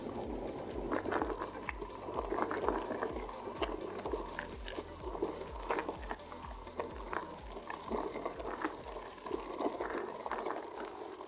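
A river flows along the Ennerdale valley, a steady watery rush mixed with rustling and bumps from a moving off-road e-bike ride, moderately loud and continuous with no speech.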